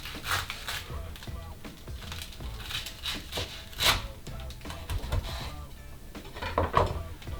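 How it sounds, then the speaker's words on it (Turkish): A fried chicken sandwich is sliced in half with a knife, giving a crisp rasping, sawing crunch in short strokes close by, with a few sharper crackles of breading. "tam ortadan ikiye kesiyorum"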